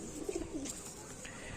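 A pigeon coos in a few short, soft, close calls, one brief burst with no one talking.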